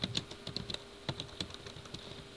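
Someone types on a computer keyboard, a soft, quick, irregular run of key clicks heard alone at low volume.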